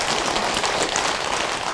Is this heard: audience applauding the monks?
yes